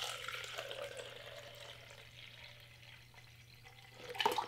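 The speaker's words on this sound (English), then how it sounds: "Okay, so I'm gonna pour it back in now." Liquid is poured back into a plastic snack cup wrapped in color-changing vinyl, a quiet steady trickle running throughout and ending in a brief louder splash and clatter of ice near the end.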